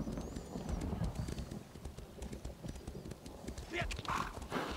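Horses galloping in the video game The Elder Scrolls Online: continuous rhythmic hoofbeats close by, with a brief whinny and chatter layered over them.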